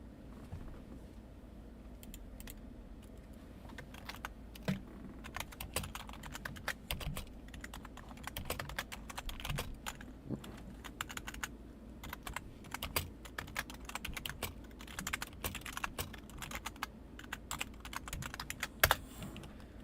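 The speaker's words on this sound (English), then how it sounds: "It's a little tricky typing around my microphone here." Rapid keyboard typing clatters close by, with irregular bursts of key presses and brief pauses over a low background hum.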